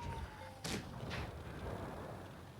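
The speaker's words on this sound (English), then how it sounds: "They're shooting us from the side" Two heavy cannon blasts from tank gunfire in a tank video game, arriving from the side about half a second apart, sharp bursts over a low rumbling background, fairly faint overall with no talking.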